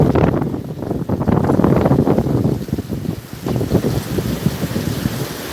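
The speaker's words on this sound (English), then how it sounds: "Another gust of wind." A strong gust of wind during Hurricane Milton roars and buffets the microphone without a break, a dense, rumbling rush that swells and eases slightly over several seconds.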